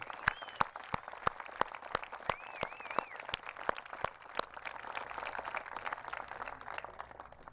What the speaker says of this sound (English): Let's give a round of applause to our Governor, Edmund G. Brown